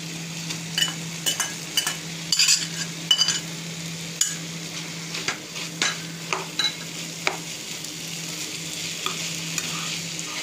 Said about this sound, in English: So we now add in the grated paneer inside.